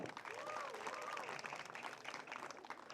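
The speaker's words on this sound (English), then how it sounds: "so a round of applause for Taranum" Applause at a university graduation ceremony rolls on as a soft, distant patter of many hands, with a voice faintly audible over the crowd noise.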